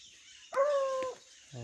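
Hunting dogs chasing a paca near water let out a single loud bark-like yelp with a ringing tone lasting about half a second, close by, followed by quieter noise.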